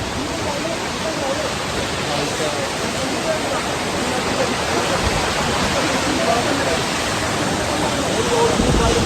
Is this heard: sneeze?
no